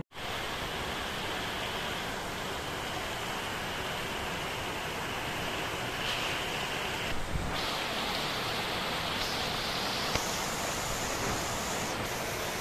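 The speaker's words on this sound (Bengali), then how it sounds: "বাইরে কিন্তু প্রচুর বৃষ্টি হইতেছে" Heavy rain falls outside as a dense, even hiss, steady and unbroken throughout, with no voices over it.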